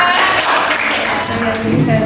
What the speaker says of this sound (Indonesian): Oke, bagus sekali, tepuk tangan.